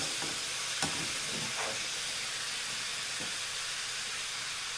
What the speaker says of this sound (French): Mélanger les oignons et les courgettes ensemble